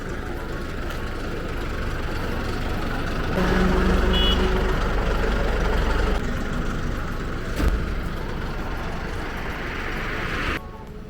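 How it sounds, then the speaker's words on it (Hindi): A tow truck hauls away a broken-down Mahindra Bolero Neo, its engine rumbling steadily and rising briefly louder in the middle while reversing beeps sound faintly. "अभी आ गई है ये टोविंग वैन, और टोविंग वैन से अभी ये टो कर रहे हैं गाड़ी को"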